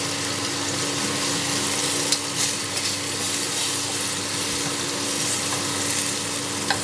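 Sliced apples sprinkled with sugar sizzle in a hot pan, a dense, continuous frying hiss close by with a few small pops and stirring clicks, no talking.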